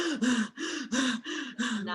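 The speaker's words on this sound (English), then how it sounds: "they say do 10 deep breaths" Six quick, rhythmic breaths drawn in and pushed out through the mouth, close and clearly audible, with no talking.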